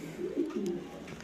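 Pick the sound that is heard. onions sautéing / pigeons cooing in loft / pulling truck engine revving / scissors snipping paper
pigeons cooing in loft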